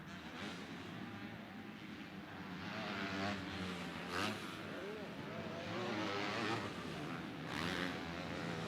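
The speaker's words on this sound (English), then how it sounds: "So that is the two-stroke for making that work, that two-stroke KTM." Two-stroke KTM motocross bike racing on a track, its engine droning at a distance, rising and revving in waves with a thin, buzzy whine, no talk over it.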